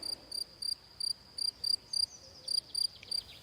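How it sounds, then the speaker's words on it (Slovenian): A cricket or grasshopper chirps in short, evenly spaced high-pitched pulses, repeating about three times a second, faint and alone against quiet background hiss. "da se tega črička ali kobilice ne sliši bolj kot mene"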